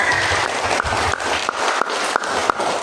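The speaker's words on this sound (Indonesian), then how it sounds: "kasih tepuk tangan" A group claps at a Sunday children's catechism session in a church station, with a few sharp, uneven claps standing out from a brief rattling patter of hands, fairly close and loud.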